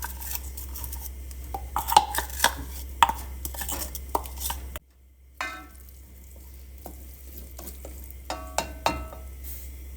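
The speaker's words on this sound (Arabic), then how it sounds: "بصلتين كويسين. فانا هسيبهم يتحمروا كده" Onions fry in oil in a pan in a home kitchen with a steady sizzle, joined by sharp utensil clacks and knocks. The sizzle drops away abruptly partway through, then more scattered clinks follow. Nobody speaks.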